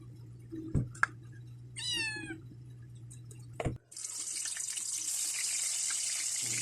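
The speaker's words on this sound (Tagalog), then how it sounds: "Kita nyo naman yung aking pusa na ikisali." A pet cat lets out a clear, rising meow near a running sink tap, with a few soft knocks around it before water starts pouring steadily.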